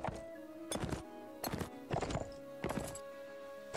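Horse hooves clopping in a fantasy video game set in Middle-earth, with four or five clear, evenly spaced hoof thuds ringing out close and loud over a steady game background.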